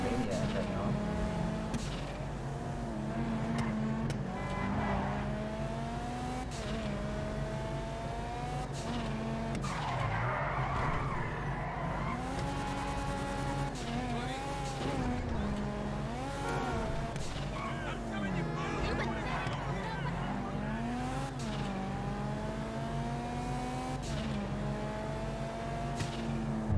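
Car speeding and skidding in GTA Online, engine roaring with tire squeals rising and falling throughout, loud and close, under a continuous game soundtrack and a talking voice.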